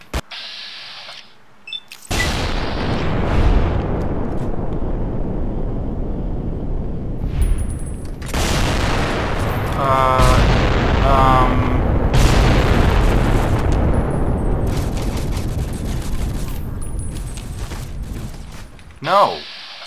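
Enemy gunfire and booming impacts in Fallout: New Vegas, a dense, loud and continuous rumble of shots and explosions with some mechanical clatter, fading out near the end.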